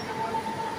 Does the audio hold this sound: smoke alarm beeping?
no